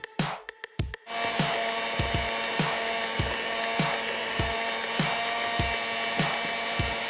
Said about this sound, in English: And we're just gonna whisk this together.